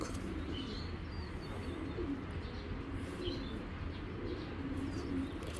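Soft, continuous pigeon cooing with occasional faint chirps over a steady low background hum.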